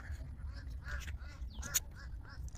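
Ducks quack repeatedly beside a flooded homestead in a haor wetland, their calls close and clear over a low steady rumble of background noise.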